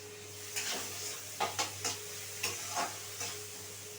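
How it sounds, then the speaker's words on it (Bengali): Onions fry in a pan with salt, a steady soft sizzle broken by several sharp scraping stirs of a spoon against the pan. "খুব সফট করে একটু ভেজে নিতে হবে।"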